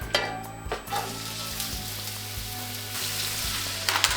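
Meat frying in oil in a pan, a steady close sizzle with a few clinks and scrapes at the start and end, no talking.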